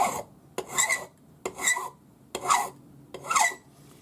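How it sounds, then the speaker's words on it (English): A Swiss number 2 cut flat hand file rasping across a ring shank in five rhythmic strokes about a second apart, each a gritty scrape, close and clear with short gaps between strokes. "then you can use your Swiss number 2 cut, flat hand file,"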